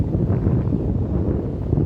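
Strong wind gusting at a sea beach on Neil Island in the Andamans with rain approaching, a steady low roar of buffeting air close to the microphone, no voices.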